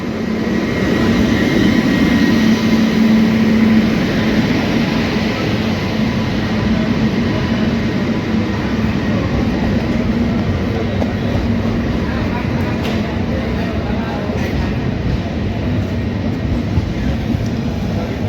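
Nanded–Bangalore Express standing at platform 1 of Parli station, giving a loud, steady rumble of rail cars and engine that fills the whole stretch with a faint hum running beneath it.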